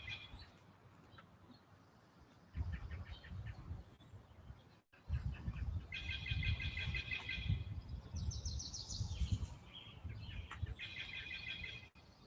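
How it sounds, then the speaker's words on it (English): Birds chirp and trill in short bursts over a steady low rumble, bright calls repeating from middle distance outdoors. "I hope you can hear the beautiful birds that are singing here today."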